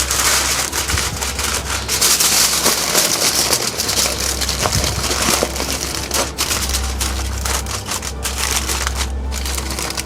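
A smoked brisket is wrapped in paper or foil for a Tundra 35 cooler, giving close, continuous crinkling and rustling with scattered crackles and no talking.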